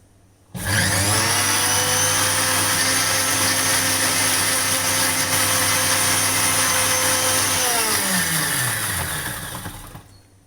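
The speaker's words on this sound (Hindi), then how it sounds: "इन सब को हम एक मिक्सर में डाल लेंगे" A mixer grinder whirs up suddenly, grinding ingredients with a little water for sooji golgappe, and runs at a steady loud roar for several seconds, then winds down and fades out.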